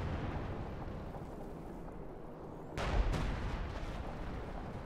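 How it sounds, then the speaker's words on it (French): Katyusha rocket artillery firing in a World War II battle game, a sudden sharp launch blast rising out of a steady background roar, followed by a short rushing tail. "Katyusha qui tire."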